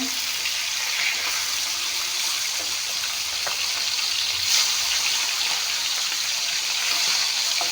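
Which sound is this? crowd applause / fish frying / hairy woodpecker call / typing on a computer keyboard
fish frying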